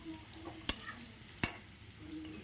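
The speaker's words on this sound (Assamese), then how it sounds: "এতিয়া ভালকৈ হালধি আৰু নিমখ মিহলি কৰি আলুখিনি ভাজি ল'ম।" Small potatoes fry quietly in a pan with turmeric and salt, a faint low sizzle broken by two sharp knocks or scrapes of a stirring spoon against the pan.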